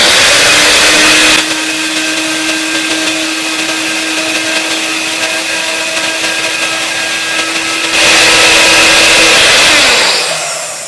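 An electric grinder runs hard on ingredients for a skin oil, a loud steady whirring drone with a sustained tone that steps up in pitch near the end before cutting off.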